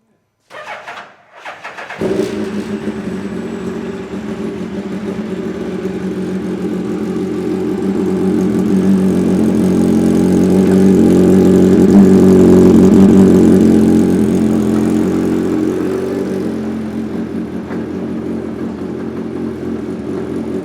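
A Hayabusa-swapped 1981 Toyota Starlet engine starts with a brief crank, then runs loud and steady, swelling as it works through the gears before easing slightly, with a strong continuous drone throughout.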